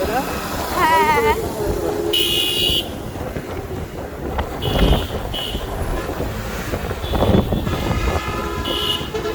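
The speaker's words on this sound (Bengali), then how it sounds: "চারপাশে কত গাড়ি, গাড়ি আর গাড়ি।" Busy city road traffic during a holiday return rush with jams, honking car horns in repeated short bursts over a steady rumble of engines and wind, people talking throughout.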